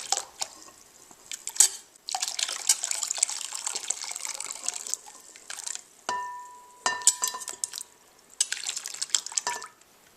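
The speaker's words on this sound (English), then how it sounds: "Now we're just going to transfer our jalapenos to a bowl of icy cold water" Jalapeño peppers being moved into a bowl of icy cold water, heard as soft splashes, drips and trickling in several short bursts with quiet gaps between, close and fairly faint.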